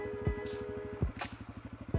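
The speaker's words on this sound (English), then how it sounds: "Now we're just rolling with the bike, idling." Dirt bike engine idling as the rider rolls along with the clutch fully let out, a steady low pulsing putter with regular beats and a few heavier thumps, close and moderately loud.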